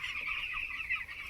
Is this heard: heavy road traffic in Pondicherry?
no